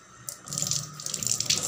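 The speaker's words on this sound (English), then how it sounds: "First, wash your hand with water." Hands being washed under running water from a sink tap, a steady gushing stream that starts after a brief pause and continues with splashing as hands move through it, close and clear.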